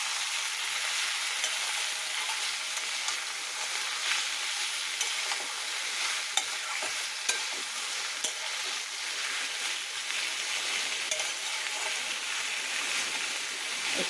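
Onion, garlic and chili frying in a pan, a continuous close sizzle with occasional stirring clicks and scrapes, steady throughout with no one speaking.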